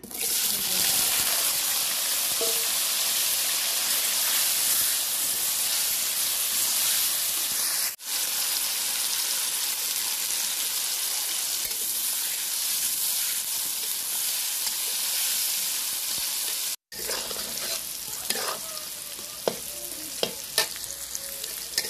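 Jackfruit pieces fry in a pan with a dense, continuous hiss and crackle, close and loud, with a brief gap and a few light clicks near the end.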